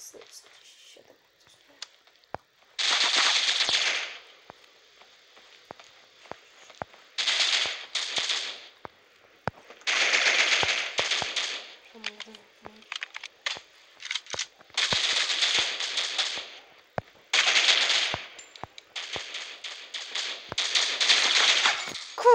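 AK-47 fire in the video game Critical Ops, heard as repeated bursts of rapid automatic shots with short pauses between them, loud and close.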